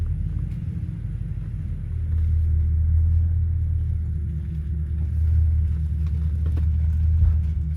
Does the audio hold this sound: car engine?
yes